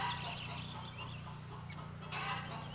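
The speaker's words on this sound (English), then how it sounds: "Epic chickens." Chickens clucking and calling at a moderate distance, with a few sharper squawks breaking through a steady low hum of background noise.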